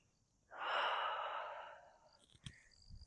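A deep, audible breath out during a standing Pilates stretch outdoors, a single long breathy exhale that fades gradually, followed by a brief sharp sniff.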